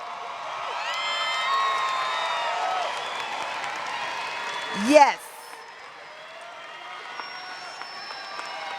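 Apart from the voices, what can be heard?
families cheering and applauding graduating students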